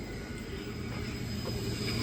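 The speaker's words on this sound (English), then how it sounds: "Here comes Shorncliffe train" A Shorncliffe train arriving at Northgate Station, a loud steady rumble of wheels and motors with faint squealing tones, continuous throughout.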